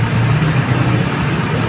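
A Toyota car engine idles steadily at about 800 RPM, a continuous close low hum with no revving and no talk over it.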